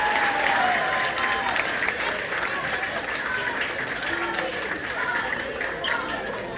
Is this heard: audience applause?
yes